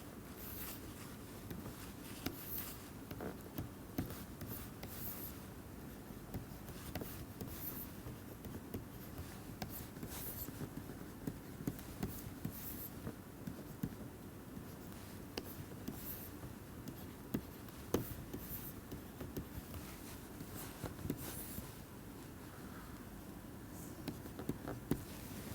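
Marker or chalk writing on a classroom board during a lecture on Dijkstra's algorithm and heaps, heard as a continuous faint scratching and tapping of strokes throughout, with no talking.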